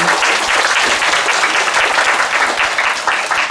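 A lecture audience claps in sustained, dense applause for the full length, loud and close, with no voices over it.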